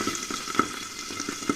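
Pabda fish fries in hot oil with a soft, steady sizzle and a couple of brief pops, quiet and close with no voices.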